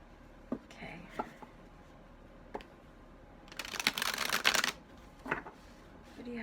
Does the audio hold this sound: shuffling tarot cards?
yes